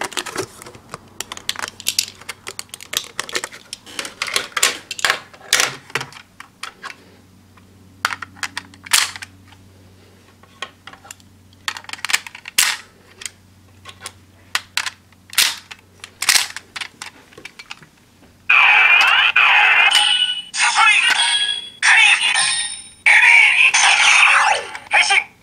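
A Kamen Rider OOO driver toy is scanned with black core medals for a random combo: a run of sharp plastic clicks and clacks with quiet pauses, followed by loud electronic toy sound effects near the end, all close up with no talk.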